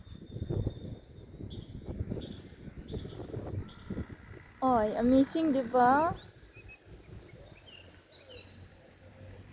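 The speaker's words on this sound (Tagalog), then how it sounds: "Nakikinig muna tayo sa mga ibon." Birds sing and chirp outdoors among trees, thin calls scattered through the background with a brief clearer burst of song in the middle, mostly under a person talking near the microphone.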